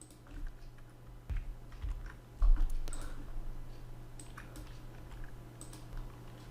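Computer keyboard typing code, a run of soft, close key clicks in uneven bursts over a quiet room, with no talking.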